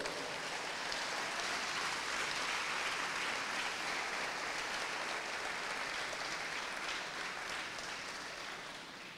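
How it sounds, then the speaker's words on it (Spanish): A church congregation applauds during a worship service, a dense, steady roar of clapping that sounds almost like heavy rain and tapers slightly at the end. "Denle un aplauso al Rey."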